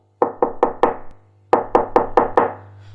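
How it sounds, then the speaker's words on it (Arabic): Someone raps on a door in two quick sets of four or five sharp knocks with a brief pause between them, loud and close. "انا سامعه صوت الباب بيخبط."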